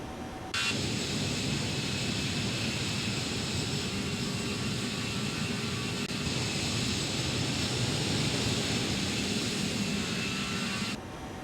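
A Toliss Airbus A319 in X-Plane 12 climbs out after takeoff with a steady, broad engine roar and a constant high whine, running evenly from start to finish.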